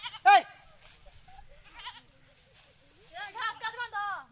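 Goats bleat near a village field where grass is being cut: one loud, close, wavering cry at the start, a fainter bleat midway and a run of quavering bleats near the end, with voices around them.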